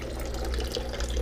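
Liquid is poured into a bucket holding a rotifer culture, giving a steady, close splashing and trickling stream that runs the whole short stretch without a break and with no voices.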